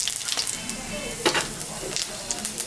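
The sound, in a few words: dry red chillies and cumin sizzling in fish-frying oil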